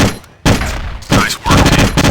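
Loud Counter-Strike gunfire: bursts of rapid automatic shots are broken by short pauses, and the sound stays close and dense throughout.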